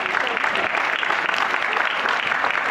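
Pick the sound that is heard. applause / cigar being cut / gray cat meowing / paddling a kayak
applause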